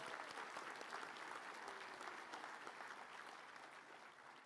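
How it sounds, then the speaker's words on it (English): Applause for a graduate at a technical college commencement ceremony, a sustained, even wash of many hands clapping from a large audience, fading slightly at the end. "Let's give our School of Arts and Sciences graduate another round of applause"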